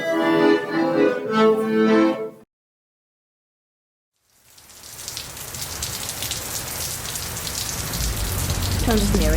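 After a brief passage of music and a moment of silence, steady rain patters outdoors in front of a school on a very wet day, a dense constant hiss that grows slightly louder.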